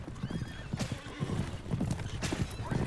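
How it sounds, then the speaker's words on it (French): Horses neighing and hooves clip-clopping in the South Park: The Stick of Truth video game, steady close clopping throughout with whinnies rising over it, no talk. "Oula, des chevaux."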